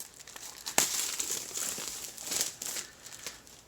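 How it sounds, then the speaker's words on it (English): Vacuum-sealed plastic wrap on a Diamond Art Club kit box is cut and pulled open, giving close, crisp crinkling and a few tearing bursts, with a sharp snap near the start, quiet and without talk. "So let's cut this open without damaging the box."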